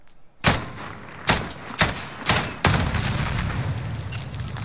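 Explosions and gunfire in a shooter video game: several sharp blasts about half a second apart, then a sustained loud roar of fire that carries on to the end, with no talk over it.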